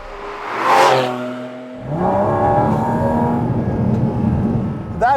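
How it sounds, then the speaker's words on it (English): A 2023 Porsche 718 Cayman GT4 RS with a 4-litre naturally aspirated flat-six revs up hard, drops briefly, then pulls again in a loud, sustained, rising howl recorded close by. "That is the sound of a 4-liter flat 6 naturally aspirated petrol engine."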